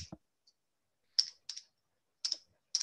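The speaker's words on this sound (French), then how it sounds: "On entend la calculatrice, hein, ou le clavier." Calculator or keyboard keys click in short separated bursts of two or three taps each, close and fairly quiet, with silence between and a few faint earlier taps.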